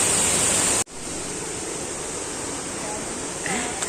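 Rushing water at Carangahan Falls roars as a broad, steady wash, close and loud, with a sharp break near the start before the flow resumes evenly.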